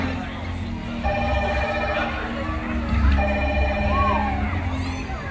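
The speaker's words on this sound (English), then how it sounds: "I think that's the rescue phone now." The SeaWorld rescue line telephone rings in two repeated electronic tonal bursts, loud and nearby, over a steady murmur of background voices and room noise.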